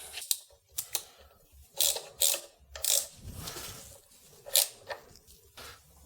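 A ratchet tightens a spark plug coil down on a Jeep 4.7 V8, a handful of close, separate clicks and short ratcheting bursts spread unevenly with quiet pauses between.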